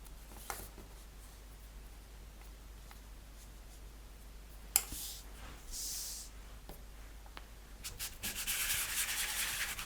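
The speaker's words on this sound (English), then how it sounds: "just place the cutter on top of the icing and press firmly down and just move backwards and forwards" A metal carnation cutter pressed into sugar icing and rocked back and forth gives soft, faint scraping and rubbing sounds with a few light clicks, louder toward the end.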